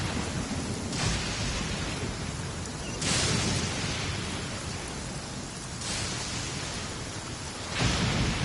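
Steady heavy rainfall hisses in the Genshin Impact game world, with deep rolls of thunder swelling and fading every few seconds in a thick, continuous wash of sound.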